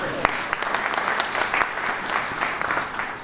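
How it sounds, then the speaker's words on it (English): Audience applause fills the room, a dense, steady wash of clapping with a few sharper individual claps standing out, sustained evenly throughout. "Give them a round of applause."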